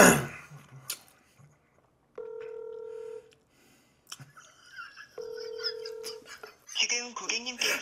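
Two steady telephone dialing tones, each lasting about a second, separated by short bursts of talk and background noise, with a voice speaking at the end.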